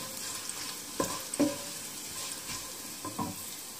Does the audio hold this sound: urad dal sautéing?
yes